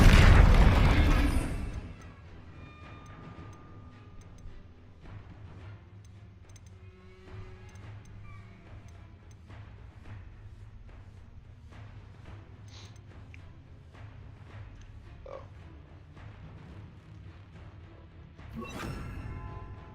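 Spell explosions in a Harry Potter video game: one loud, deep booming blast opens, then a low rumbling game bed with scattered faint pops and crackles, and another burst swells near the end.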